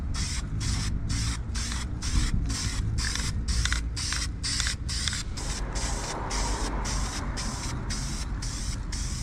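High-temperature primer is sprayed onto Mitsubishi Minica kei car parts from an aerosol can, a steady loud hiss broken by rapid pulsing bursts of spray, then continuing as an unbroken close-up hiss.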